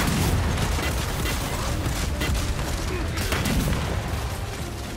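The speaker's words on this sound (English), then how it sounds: "Oh, right, I've got the boom shot." Heavy booming blasts from the Boomshot launcher in Gears 5 go off amid dense, continuous battle noise, with a voice faintly mixed in beneath the chaotic gunfire.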